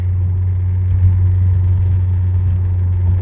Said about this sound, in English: So here we are out for our drive.